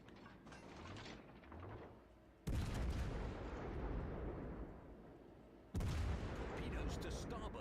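Enemy warship gunfire in World of Warships, heavy booming salvos that land as two sudden loud blasts followed by long rumbling decay, with quieter battle noise between them.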